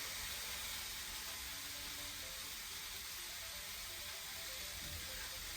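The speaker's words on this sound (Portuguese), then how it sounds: "E o alhinho em filete que eu tenho, eu vou soltar ele assim, ó, pela frigideira" Sliced garlic and rosemary frying in a pan give off a steady, close hiss of sizzling oil that holds evenly throughout, with no talking.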